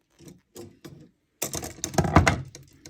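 Scissors cutting through an LED light strip for a converted 4-foot fluorescent fixture: three short, separate snips close by, then a louder, denser burst of cutting and handling noise.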